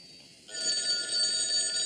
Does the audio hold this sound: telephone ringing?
yes